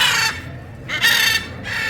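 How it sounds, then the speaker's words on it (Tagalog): Loud bird calls ring out in bursts in an indoor Amazonia exhibit at Boulevard World in Riyadh, where many parrots squawk in harsh, repeated cries with a steady low murmur of the crowd underneath. "Ang daming parot."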